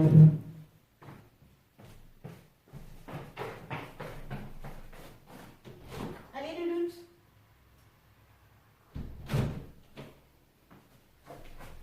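A door is opened indoors to let a cat back in from outside, giving a few short knocks and a brief creak between stretches of someone talking.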